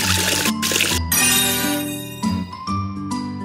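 Water pours and splashes in a short cartoon sequence of washing the face, bright trickling bursts mixed with tinkling chimes and cheerful music, loud and close.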